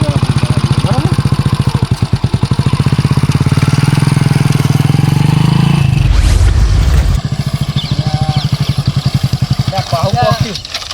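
A motorbike engine chugs at a rapid, even idle, close and loud, the regular beat briefly roughening before settling back into a steady putter.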